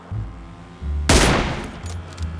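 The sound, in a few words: gunfire in the video game PUBG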